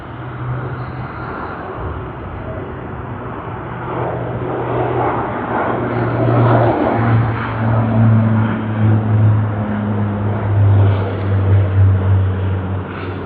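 An Emirates airliner at Sydney Airport produces a steady, rumbling roar that swells gradually as it passes, with engine tones wavering throughout, heard at moderate distance and loud, with no voices over it.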